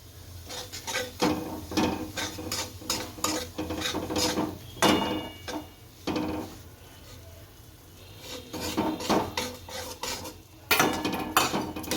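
Semolina being stirred and roasted in hot ghee in a pan for Gujarati rava shiro, with a spoon scraping and clinking against the pan in irregular bursts, fairly close and alone.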